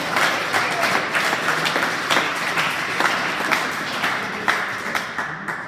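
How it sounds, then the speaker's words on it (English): Applause from the audience at a school wrestling awards night, a steady wash of clapping with some distinct sharp claps standing out, continuing evenly at moderate loudness. "Let's give those two a round of applause."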